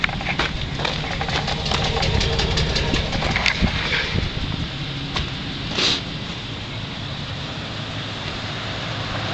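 A 1998 GMC K1500 Z71 pickup with its original exhaust idles steadily with a low, even rumble, after a busier few seconds of clattering and a brief louder burst near the start, no talking.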